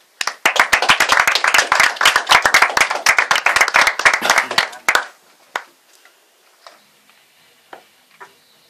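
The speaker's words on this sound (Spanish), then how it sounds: "os pido un aplauso" A small audience claps at a medieval fantasy story reading, a loud burst of close, sharp hand claps for about five seconds that ends abruptly, followed by a few scattered faint taps.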